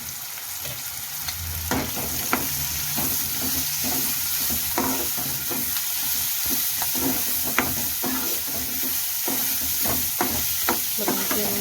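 Turmeric and ginger garlic paste fry in a pan with coriander and mint, a constant close sizzle broken by sharp scraping stirs at irregular intervals, with no voices over it.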